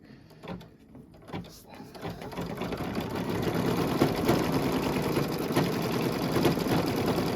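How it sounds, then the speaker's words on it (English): A Kimberbell embroidery sewing machine stitches a placement line on fabric, starting with a few soft mechanical clicks, then settling into a steady, close, rapid needle chatter and motor hum. "now it's going to stitch the placement line for the fabric."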